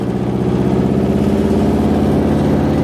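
Buggy engine running after a drive through mud, a loud, close, steady mid-pitched drone with a slight whirring edge and no talk.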